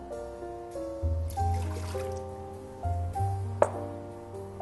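White wine and chicken stock go into a pot for braised pork belly with apples, making soft trickling and splashing pours broken by brief pauses, with a light clink partway through over a low background hum.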